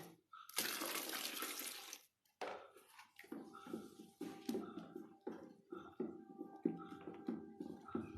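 Water pours from a tap for a few seconds while homemade liquid soap is being made, followed by clinks and knocks of containers and utensils, close and moderately loud.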